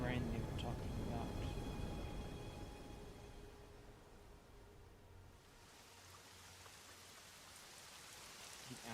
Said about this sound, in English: There's the rain they were talking about.